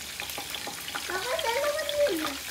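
A piece of food dropped into hot cooking oil to check its heat sizzles steadily and close by, with a wavering whine rising and falling over the hiss midway.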